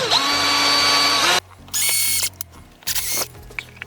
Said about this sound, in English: I'm going to use a normal drill bit just because it's plasterboard.